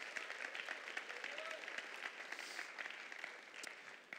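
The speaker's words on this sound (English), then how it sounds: "So give that a round of applause here." Audience applause at a school awards show, a steady wash of clapping through the whole stretch that is moderately distant and fairly soft, with no talk over it.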